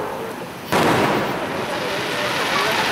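A Fourth of July fireworks display bursts with a sudden loud boom, followed by a sustained crackling rumble that slowly decays.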